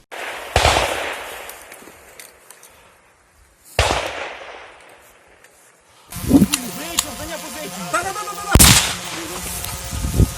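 Gunfire during a combat assault: loud, sharp shots crack out singly at first, then a denser burst of firing with echoes and shouting voices in the second half.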